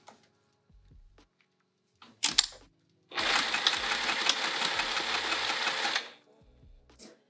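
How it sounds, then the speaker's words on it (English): Sewing machine stitching over ruffled fabric for a bag, one steady three-second run of fast mechanical whirring, with short bursts and faint clicks before and after. "we're back to sewing right over our ruffly stitches and getting this one down"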